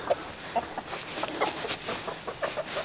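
Brahma hen clucking softly while sitting on a clutch of eggs, a series of short, close clucks at an irregular pace over a faint background hiss.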